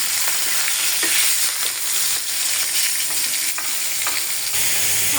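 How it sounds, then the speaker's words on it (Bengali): Fish frying in oil in a wok, a steady dense sizzle filling the whole stretch with occasional stirring scrapes and pops, close and fairly loud with no talk. "আমি কিন্তু এখানে কড়াই বসাই দিলাম মাছ ভাজার জন্য"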